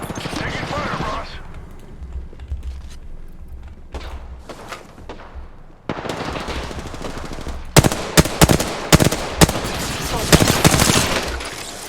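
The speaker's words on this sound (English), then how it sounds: "Taking fire, boss." Video game gunfire, scattered sharp bursts and single shots that grow denser in the second half, mixed with game sounds and a voice speaking between shots.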